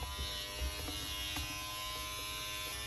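Electric clippers run with a steady close buzz, shaving hair for a buzz cut in a home kitchen, humming continuously with slight changes as they move through the hair.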